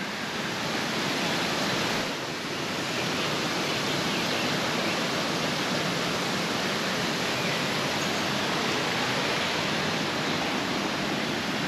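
The Janjske otoke waterfall at Šipovo roars as a dense, constant broadband rush of falling water, loud and close, with no break and no voices.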